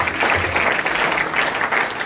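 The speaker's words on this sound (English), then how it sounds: "A big round of applause for him." A crowd at a skill training event in Sunyani claps steadily in a brief, continuous burst of applause, fairly loud and without pause.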